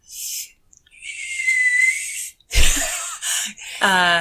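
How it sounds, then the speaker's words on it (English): A person makes breathy, airy whistles by drawing air in: several short and drawn-out notes close by, separated by pauses, ending in a brief vocal sound. "I can kind of suck in air and make sort of a whistling sound"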